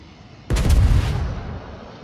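Heavy naval shells fire from a warship's guns in World of Warships, one booming salvo that rumbles and fades out over about a second and a half, close and loud with no talk.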